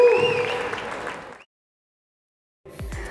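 Applause and cheering from a crowd that cuts off abruptly, followed by a pause of silence before a few faint sounds resume.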